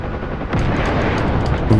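Machine-gun fire from a BTR armored vehicle hitting a Huey helicopter during an airfield raid in the DCS combat flight game, heard as a dense, continuous rattle of rapid shots over steady loud rotor and engine noise.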